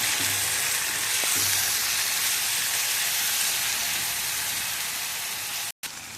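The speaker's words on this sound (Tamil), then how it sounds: "தக்காளி போட்டுக்கணும் ஒரு தக்காளி போடுங்க தக்காளி வதங்குற அளவுக்கு நல்லா வணக்கணும்" Tomato sautés in a pan for Salem-style kara kuzhambu, a loud, close, continuous sizzle with a faint clink early on and a brief dropout near the end, without speech.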